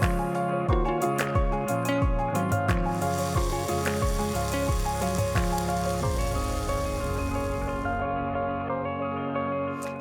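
A hamburger bun toasts in a hot pan with a steady, even sizzle that holds throughout, with a few sharp clicks early on and no talking.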